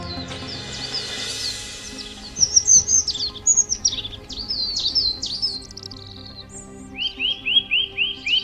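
Several birds chirp and sing, with bright whistled notes, quick rising tweets and a repeated run of short chirps near the end, heard clearly over a soft background hiss.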